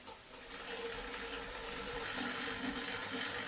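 A mixer kneads Chicago-style pizza dough with butter and lard at very low speed, producing a steady mechanical whir with a sloshing, churning texture that runs evenly throughout.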